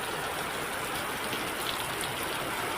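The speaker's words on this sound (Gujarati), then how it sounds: "મુન્દ્રાના ગ્રામ્ય વિસ્તારોમાં ધોધમાર વરસાદ વરસી રહ્યો છે" Heavy rain pours down across a village area in Mundra, Kutch, a steady dense hiss with no break and no voices.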